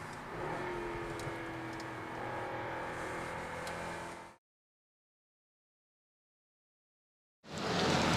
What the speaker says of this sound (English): Remarkable acceleration, David. Got some get up and go for a luxury car up a hill